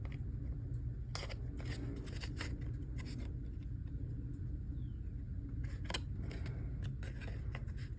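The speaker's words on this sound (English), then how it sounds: "I'm just going to use my scissors here and round my corners" Scissors snip in short clusters of crisp cuts, rounding the corners of a card, close by, over a steady low rumble in the background.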